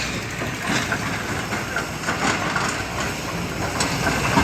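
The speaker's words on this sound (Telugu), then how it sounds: "అలా లోపలికి వెళ్తాయి ట్రైన్స్." Rumbling train passing nearby, its last guard coach going by, a continuous rolling roar with faint rhythmic clatter of wheels on the track.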